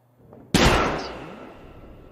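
A single loud gunshot blast in a video game cuts in sharply, with a long decaying echo trailing off over the next second and a half.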